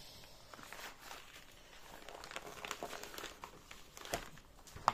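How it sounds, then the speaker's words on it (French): A sheet of paper forced and folded while unboxing a cross-stitch kit, with close, quiet crinkling and rustling in irregular bursts and a few sharper crackles. "Ça rentre pas, il faut que je force et je plie ma feuille."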